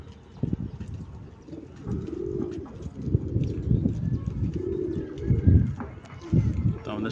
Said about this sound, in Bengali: কিছু কবুতর বামেই ডাকতেছে মাদির সাথে।